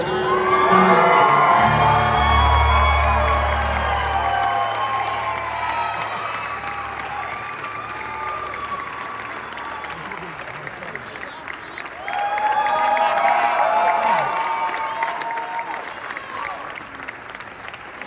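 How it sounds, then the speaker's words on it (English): A country concert crowd at a show applauds and cheers, with whoops and shouts over sustained clapping, a low rumble early on, and a second swell of cheering partway through. "Keep your round of applause going."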